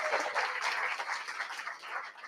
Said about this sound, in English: Give a huge round of applause for Div.